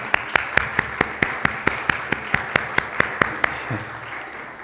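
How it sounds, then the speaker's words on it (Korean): A church congregation claps in welcome during a New Year service, a steady run of about fifteen sharp, evenly spaced claps that stop near the end. "우리 박수로 환영하시겠습니다."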